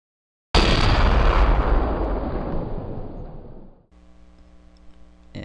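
Sniper rifle gunshot sound effect built in Sony Vegas: one loud, booming close shot with a long decaying rumble, then a faint ringing tail, alone with no talk.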